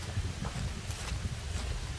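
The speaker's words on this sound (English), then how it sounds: "It's quite chilly and quite windy." Chilly wind gusting across an exposed ridge line along a hiking trail, a steady low rumble of buffeting against the microphone with faint rustling, continuous and fairly close with no talking.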